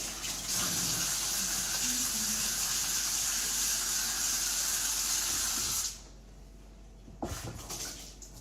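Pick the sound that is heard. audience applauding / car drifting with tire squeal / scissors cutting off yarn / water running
water running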